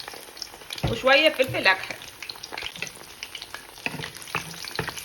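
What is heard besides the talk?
bones frying in hot oil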